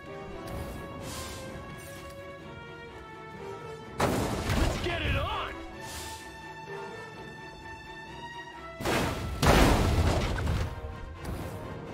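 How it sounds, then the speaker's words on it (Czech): Two heavy big-bomb explosions in the video game Destroy All Humans! burst out a few seconds apart over steady game music, each a loud booming impact that rumbles and fades. "Ty hodíme velkou bombu, bada bum."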